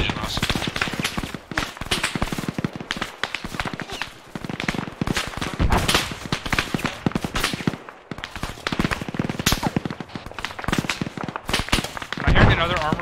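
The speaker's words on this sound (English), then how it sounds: "Heavy machine gunner engaging us." Heavy machine gun fire from the ARMA 3 military shooter thunders in long, dense automatic bursts, loud and nearly continuous, with brief gaps and some voice underneath.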